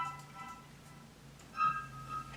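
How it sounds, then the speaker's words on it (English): Soft, echoey synthesizer tones generated by a computer with a flute-like quality, faint sustained notes drifting in and out with a slightly louder swell near the end, no voices. "I just called it echoey thing. It's just kind of a synthesizer that my computer created."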